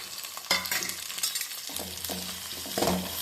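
Onion, green chili and ginger garlic paste sauté in a pan, giving a close, busy sizzle punctuated by repeated scraping and knocking strokes of a stirring spoon, with no one speaking.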